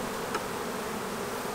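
Honey bees droning steadily around a beehive during swarm-prevention work, a dense, continuous hum filling the air with one closer bee briefly passing by.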